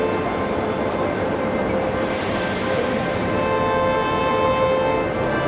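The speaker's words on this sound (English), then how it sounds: "Another train journey, just 30 minutes." Steady rumble and hiss inside a train travelling from Lisbon to Queluz, a continuous even roar with a faint tonal whine, no voices.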